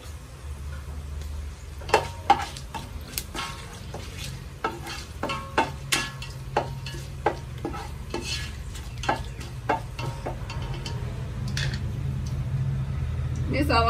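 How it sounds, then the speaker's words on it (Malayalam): Cinnamon, cloves and bay leaf fry in ghee for ghee rice. A low sizzle runs under repeated light taps and scrapes of a spoon against the pan, spaced every second or so. "1 വലിയ കഷ്ണം പട്ട, 2 ഗ്രാമ്പു, ബേ ലീഫ് ഇട്ട് കൊടുക്കാം. നന്നായിട്ടൊന്ന് മൂത്തോട്ടെ."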